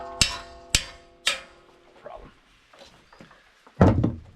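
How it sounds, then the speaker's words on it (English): Three sharp metallic hammer blows ring out in quick succession, a small hammer striking a tool set against a lock nut on a Mobile Dimension sawmill, followed by lighter clanks and one more heavy knock near the end. "I'm going to try once just with the small hammer."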